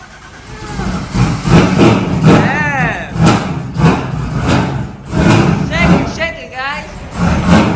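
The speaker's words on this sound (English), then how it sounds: "V8 motor" A Pontiac Firebird V8 runs with a rough, loud roar that swells and fades in uneven surges, while several people talk excitedly over it nearby.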